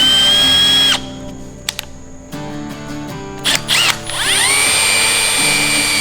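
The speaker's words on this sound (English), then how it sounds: "This is 3/8 inch drill bit. I'm gonna drill these 5 holes" A power drill with a 3/8 inch bit bores holes in a 2023 Ford Raptor dash mount: a loud steady whine, short stops and restarts, then a rising spin-up that holds near and strong.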